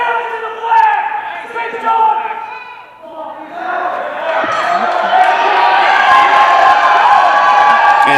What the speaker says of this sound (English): Big John Henry has the crowd behind him. They are riled up, ready to light up like a firecracker.